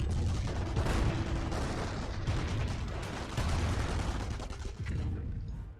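A Nebelwerfer rocket artillery barrage in a war video game lands as a dense run of loud overlapping blasts and bursts. The heavy rumbling impacts continue without pause for several seconds.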